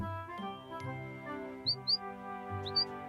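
A small cartoon bird gives several short high chirps in two quick pairs over soft melodic background music, light and clear.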